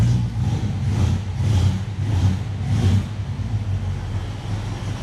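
A 1960 Buick's engine runs quietly, a low, smooth idle with a few gentle rises in level, fairly close and steady with no talking over it.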